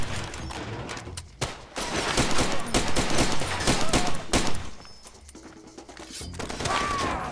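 Gunfire in the video game Far Cry 2: dense, loud, sustained automatic volleys fill most of the clip, with a short lull near the start and a quieter dip before the shooting resumes.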